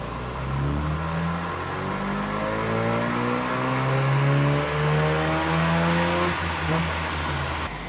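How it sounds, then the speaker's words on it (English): Mazda RX-7 rotary engine revving hard on a dyno, a loud buzzing tone climbing steadily in pitch through a long pull, with a brief dip and recovery near the end and faint voices beneath. "I can't hear the car."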